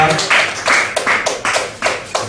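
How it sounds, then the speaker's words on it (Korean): Congregation at a church camp clapping together in slow, even unison, about eight loud synchronized claps in a steady rhythm, close and distinct. "하나님께 우리 박수를 흔들고 마치겠습니다."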